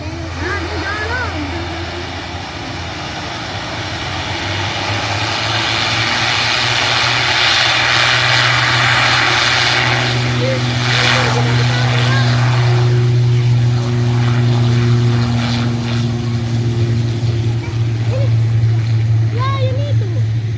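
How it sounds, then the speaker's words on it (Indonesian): A passenger jet, a Batik Air airliner landing and taking off at Sultan Hasanuddin airport in Makassar, roars steadily in a loud sustained rumble that swells and holds, with people talking nearby throughout. "Weh, pesawat batik."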